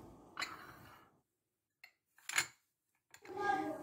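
Metal spoon scooping dried mint leaves for a herbal blend, a few short dry rustling scrapes and clinks close up, separated by pauses.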